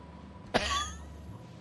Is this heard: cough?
yes